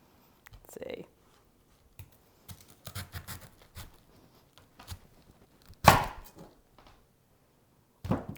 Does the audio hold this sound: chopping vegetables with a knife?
yes